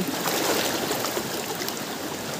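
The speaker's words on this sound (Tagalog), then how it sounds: "pumaragasan na yung tubig dito" A river rushes steadily at close range as a broad, continuous roar of flowing water with no letup, and no one speaks over it.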